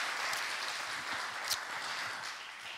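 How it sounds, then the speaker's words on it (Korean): A church congregation applauds one another, a soft, steady blur of many hands clapping with no break, heard at some distance. "큰 박수 서로에게 마지막 시간 제가 애쓰셨다고 박수로"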